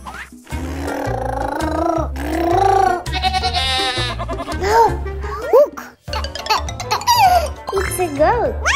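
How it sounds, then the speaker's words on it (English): A goat bleats in a few wavering, nasal calls near the listener, mixed with children's voices and light background music. "It's a goat."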